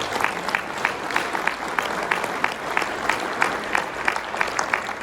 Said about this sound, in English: join me in a round of applause for all our winners this year